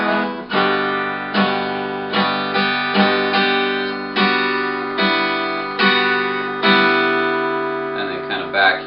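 An acoustic guitar plays a strummed part, rhythmic chords repeating steadily and close up, with a brief string scrape near the end.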